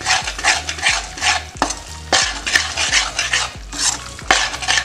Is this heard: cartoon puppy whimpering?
no